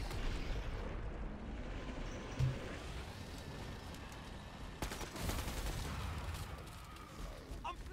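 In the zombie-shooting video game Killing Floor 2, rapid, continuous gunfire and explosive bursts roar under a player's voice, with a sharp loud crack near the middle.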